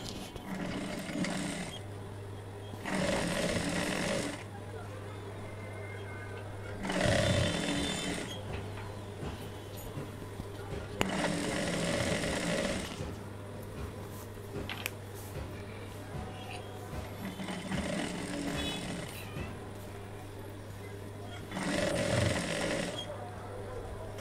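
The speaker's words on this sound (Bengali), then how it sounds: "এখন আমি এখান থেকে পুরাটা রাউন্ড আর কি সেলাই করে দিব, নিচের যে সাইডটা সেটা।" Sewing machine running a round stitch along the bottom hem of a churidar pajama, in repeated bursts of steady whirring a few seconds each, separated by short pauses and a low steady hum, with a voice speaking intermittently.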